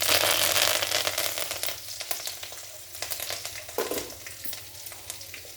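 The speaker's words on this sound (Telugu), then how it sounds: "తిరగమాత కారణించి కొంచెం కరివేపాకు వేసుకున్నాం" Curry leaves hit hot tempering oil with a burst of loud sizzling and crackling that gradually settles into a softer fry, with a few sharp spatters and stirring scrapes along the way.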